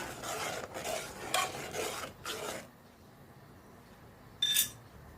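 Sugar is stirred in a pan for custard pudding, heard as a rhythmic series of close scraping, rasping strokes of a spoon across the pan bottom, then a quiet pause and one final short scrape.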